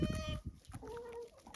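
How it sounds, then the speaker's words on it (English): Rhode Island Red chickens cluck at a coop, a few short, tonal calls rising clearly over a busy farmyard background, fairly close and without talk. "The red chickens are Rhode Island red."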